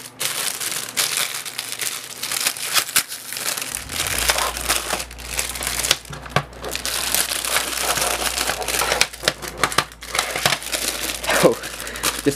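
Plastic wrapping tearing and crinkling off a Maxell UD2 cassette tape, a loud, close, continuous crackle with sharp rips that runs throughout.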